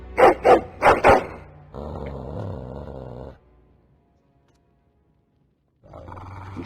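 A dog in the fantasy role-playing game Dragon Age: Origins, staring at a castle door, gives a few sharp loud barks and then a low sustained growl. Silence follows before other game sound returns, and no one speaks.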